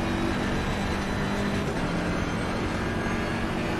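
A BMW M6 GT3 race car's engine in Assetto Corsa Competizione roars as a steady, loud, continuous drone that holds level throughout, with no talking.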